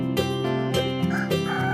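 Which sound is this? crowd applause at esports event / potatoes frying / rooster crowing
rooster crowing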